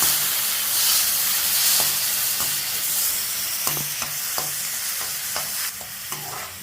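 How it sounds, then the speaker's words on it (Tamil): Tomatoes and onions sautéing in a pan for a tomato and ridge gourd kadayal, a steady close sizzle with repeated spoon scrapes and stirring clicks throughout. "நம்ம இப்போ போட்டு அதையும் வதக்கணும்."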